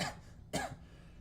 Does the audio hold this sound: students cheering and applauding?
no